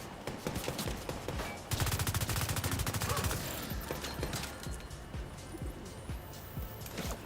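Gunfire crackles through a firefight in The Division 2 video game, with scattered shots giving way to a dense, rapid machine-gun burst, then continued intermittent fire under a faint voice.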